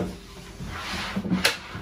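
A drawer in a custom-built caravan fit-out slides open and shut, a short soft scrape followed by a couple of knocks and a sharp closing clack, close and alone.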